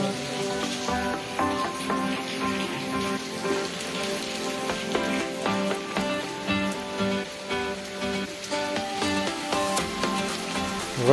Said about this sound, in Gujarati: વરસાદ હજી એ ચાલુ છે.